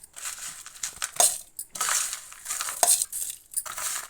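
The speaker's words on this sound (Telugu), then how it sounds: "మిక్సీ పట్టుకుంటున్నాను" A kitchen mixer grinder coarsely grinds roasted ingredients for laddu, in harsh crunching bursts that start, stop and restart in short pulses, close and fairly loud.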